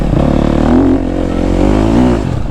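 A KTM 250 SXF dirt bike rides through a summer forest, its engine loud and close, revving up and easing back twice in quick succession with some clatter underneath.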